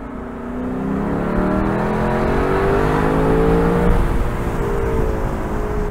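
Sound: Lexus LC 500 Convertible 5-liter V8 engine exhaust

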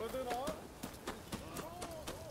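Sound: horse galloping in the video game Rise of the Ronin

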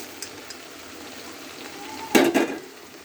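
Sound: fried dried fish added to curry in pan, sizzling

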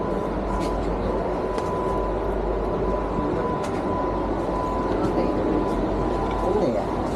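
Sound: Vande Bharat express train running

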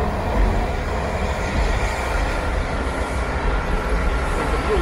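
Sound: DC Metro blue line train arriving at underground station

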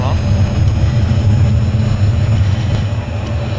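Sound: airplane engine in video game

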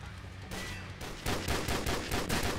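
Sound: rapid gunfire from a fast-firing gun in a video game

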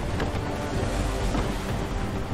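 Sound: wind at sea in Assassin's Creed III video game

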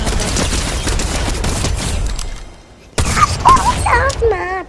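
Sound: gunfire in the video game Fortnite

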